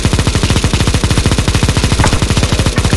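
Rapid automatic gunfire hammers at zombies in CS:GO zombie escape, a steady, loud stream of shots fired at a fast, even rate without pause.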